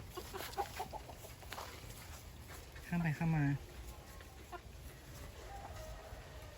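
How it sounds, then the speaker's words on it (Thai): Chickens on a wild boar farm give a short run of clucks midway through, heard faintly over outdoor background noise while a person talks nearby. "มีไก่ด้วยนะครับ"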